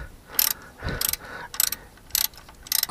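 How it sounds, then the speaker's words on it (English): A socket ratchet clicks in five quick bursts, evenly spaced, as it turns a bolt on a new starter motor being fitted to a motorhome engine, close and crisp. "I bet I could turn that with just the socket."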